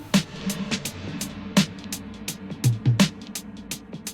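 A sustained, washy reverb pad from an Eventide ShimmerVerb freeze drones low underneath while sharp percussive hits strike irregularly on top, at moderate loudness.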